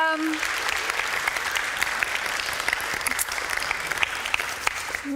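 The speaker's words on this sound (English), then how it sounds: "I think we should give them all a round of applause, don't you?" An audience at a community awards evening applauds the nominees with sustained, dense clapping and a few cheers, a steady wash of hands from start to finish.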